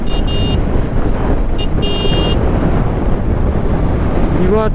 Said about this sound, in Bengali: বিভৎস হাওয়া দিচ্ছে, বিভৎস।